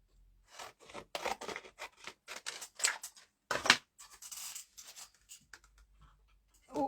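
Scissors cutting card for a handmade greeting card, a close series of crisp snips and rasping slices at an irregular pace with short pauses.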